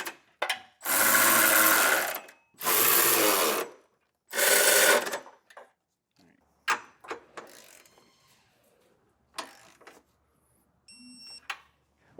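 Three long bursts of a power tool's whirring ratchet as nuts are snugged onto the mounting bolts of a CURT Class III trailer hitch on a 2024 Buick Envision, then scattered clicks and metallic clanks of hardware.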